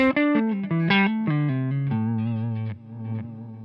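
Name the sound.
guitar delay with ducking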